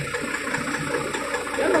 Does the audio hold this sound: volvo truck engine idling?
yes